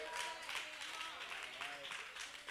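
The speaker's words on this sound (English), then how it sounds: "I know only five people gonna clap" A church congregation gives a light, scattered round of applause, a soft steady patter of a few hands clapping in a large room, with a voice talking over it.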